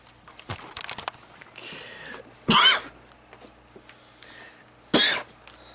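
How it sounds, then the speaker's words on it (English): Two or three harsh, close coughs break out between quieter rustling and throat sounds, each cough short and loud. "I'm coughing"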